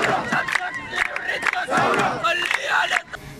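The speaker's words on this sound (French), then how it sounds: "les protestataires campent devant le quartier général de l'armée depuis plusieurs jours" A crowd of protesters camped outside army headquarters shouts and cries out together, a loud, dense wall of raised voices rising and falling continuously, with a brief drop near the end.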